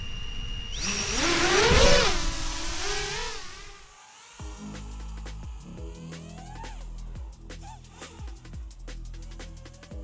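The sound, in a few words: DeepSpace ROC7 drone motors running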